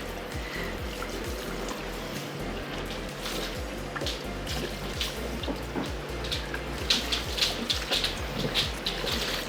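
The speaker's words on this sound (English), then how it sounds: "We're gonna wash it out again." Water runs steadily from a salon sink sprayer as hair is rinsed, a constant close hiss with soft splashing and irregular dribbles, rising slightly toward the end.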